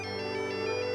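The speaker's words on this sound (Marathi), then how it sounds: "अगं गावाहून फोन आला वाटतं," A phone rings with an incoming call, a steady electronic ringtone with sustained tonal bands held evenly and fairly loud for the whole moment, with no voices over it.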